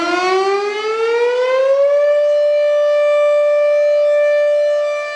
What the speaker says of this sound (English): Next is Super Sirex siren.